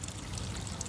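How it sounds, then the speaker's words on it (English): Water spilling from the bottom of a water-filled tractor tire after its bead was broken, a steady broadband pouring and splashing rush that continues unbroken at close range, with no talk over it. "I broke the tire bead, I now have water spilling out the bottom"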